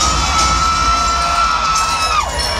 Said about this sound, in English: You hear the ladies screaming.